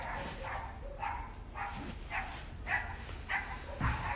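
A dog barks repeatedly in a steady rhythm of about seven short barks, somewhat distant and moderate in volume over low background noise.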